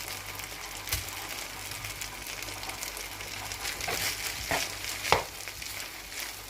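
Rice frying in a pan for fried rice, a steady soft sizzle with occasional scraping knocks of a spoon as it is stirred, fairly quiet and close with no talk.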